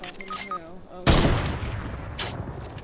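Gunfire erupts in a video game, a sudden loud burst of shots that follows brief faint sounds and speech, then fades into rattling noise with another distant shot.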